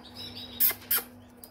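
A bird calls from overhead outdoors, giving two short bright chirps about a third of a second apart against a quiet background.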